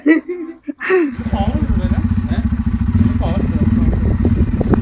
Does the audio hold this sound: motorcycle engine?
yes